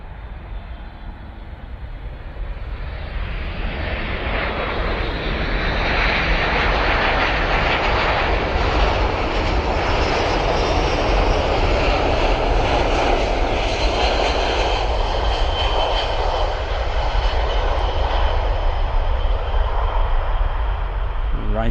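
Aircraft engines at RAF Mildenhall airbase roar loudly and continuously, swelling to a steady, powerful rumble that fills the whole stretch without a break.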